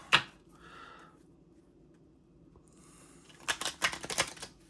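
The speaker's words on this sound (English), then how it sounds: "these are hard to shuffle." A brief riffle of archetype cards at the start, then after a quiet pause a quick burst of crisp card-shuffling clicks near the end.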